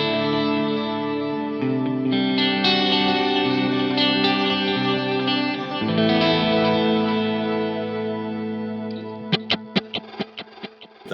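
Electric guitar through a Boss DD delay pedal with the effect level raised, sustained chords smeared into a big ambient wash, ending in a run of sharp picked notes whose repeats trail off behind them.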